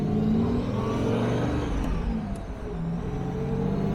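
A modified Jaguar E-Type V12 engine pulls hard under acceleration, a loud, steady, smooth drone heard from inside the moving car, easing slightly near the middle before building again.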